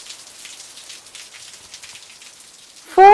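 Rain falls as a soft, steady patter at low level, ending abruptly with a sudden loud tonal sound in the final moment.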